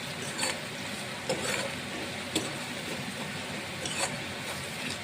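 Cooked toor dal for garlic dal fry is stirred with coriander powder and red chilli in a pan, soft scraping and a few light knocks over a low continuous hiss, close and quiet.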